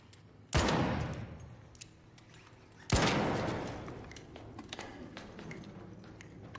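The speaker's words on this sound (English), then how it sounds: "I'm literally using a hand cannon against them" Two heavy hand cannon shots in the video game Arc Raiders, each a sharp loud crack with a long rolling decay, spaced about two seconds apart, with faint scattered ticks and clatter in between.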